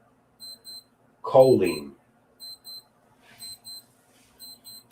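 An alarm clock beeps in paired bursts at a steady rhythm at 2 a.m. in a room near a kitchen, with a person speaking a word over one gap.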